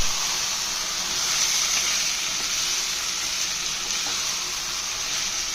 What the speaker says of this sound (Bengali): এখন দিয়ে দিচ্ছি চিকেনের মাংসগুলা